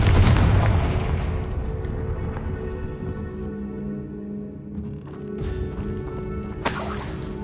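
A Confringo fire spell in Hogwarts Legacy bursts with a deep boom at the start, then rumbles and fades into softer crackling effects, with a sharper burst near the end.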